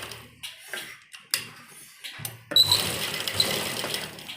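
A sewing machine stitches a strip of fabric onto a baby frock, starting with a few short bursts and scattered clicks before settling into a louder, continuous run of stitching with no talking.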